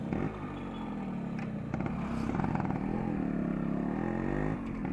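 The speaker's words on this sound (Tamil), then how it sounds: "இப்போ டெஸ்ட் ட்ரைவ் வந்திருக்கோம் வண்டி எடுத்துகிட்டு" A motor vehicle engine drones steadily on a test drive, recorded up close on a mounted action camera, with a continuous loud hum that rises slightly in pitch and wind rush over it.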